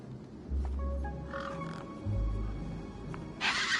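A large bird calls in the Beyond a Steel Sky video game, giving a couple of low, drawn-out cries over a steady ambient bed, with a brighter burst near the end.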